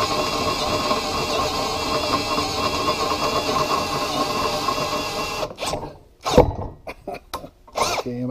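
A power drill boring out a stuck bolt with incrementally larger bits, running as a steady, loud grinding whir for about five seconds before cutting off into short bursts and knocks with a brief grunt.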